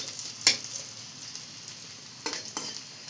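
Onions frying in a kadai give a steady soft sizzle, broken by a few brief stirring scrapes near the start and toward the end, close and fairly quiet with no talk.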